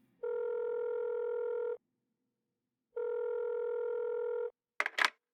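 Telephone ringing on the line while a call connects: two long, steady electronic rings separated by a pause, clear and isolated, followed by a brief click-like burst.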